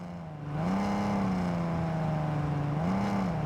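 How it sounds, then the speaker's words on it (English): Car engine drone in a driving video game, a loud sustained tone rising in pitch with two brief revs near the start and end, close and continuous with no talk. "Engine is very loud, and the squealing of the tires seems very unrealistic."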